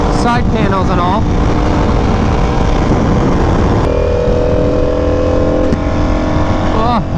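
Ducati Panigale V4R sportbike fitted with carbon fiber side panels, its engine droning loud and steady while riding through traffic, pitch rising and falling with throttle, a held tone midway.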